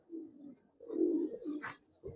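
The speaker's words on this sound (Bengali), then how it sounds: "এক জোড়া চায়না খাকি কবুতর ভাই," A pair of China khaki pigeons coo softly at close range, two or three low throaty coos with a brief higher note between, otherwise quiet.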